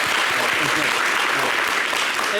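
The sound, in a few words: studio audience applause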